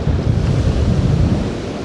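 Sea waves crash at the seaside, a loud continuous low roar of surf mixed with wind buffeting the microphone, with no one speaking.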